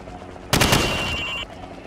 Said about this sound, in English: Now shoot the target while aiming down the sights